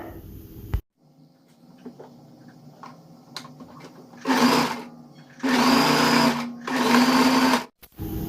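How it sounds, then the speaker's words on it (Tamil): A sewing machine stitches old Poonam saree fabric into an Anarkali dress, three loud sustained whirring runs of a few seconds each with short pauses between them, preceded by quieter handling noise and no talk. "இப்போ இந்த பார்ட்டு நம்ம எப்படி தைச்சோமோ அதே மாதிரி நம்ம இன்னொரு பார்ட்டையும் வந்து தைச்சிக்கலாம்"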